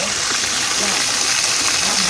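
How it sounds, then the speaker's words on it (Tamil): Water pours down the Karanthamalai waterfall near Madurai, a steady bright hiss of flowing water filling the whole short stretch at moderate level. "இதுதான் கரந்தமலை ஃபால்ஸ்"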